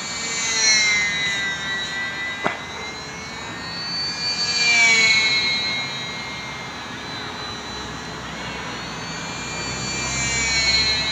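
A small Sbach 342 model aerobatic plane flying in calm, windless air, its high electric motor whine rising and falling steadily as it passes overhead, moderately loud and continuous.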